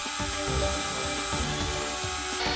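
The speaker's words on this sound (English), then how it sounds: "drilling" A power drill whirs steadily in a hobby workshop, boring into plywood for a model engine project, a continuous close buzzing with slight pitch wobbles and no voices.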